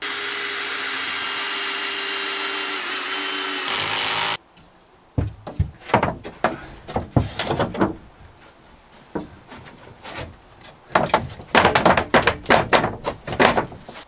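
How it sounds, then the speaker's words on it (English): A power drill drives screws through thin plywood while building out a budget camper van: a steady whirring drone runs for several seconds, then gives way to a series of sharp knocks, thunks and short bursts of clatter close by. "I'm going to screw in through there, hopefully miss those 2 massive screws I've already put in there"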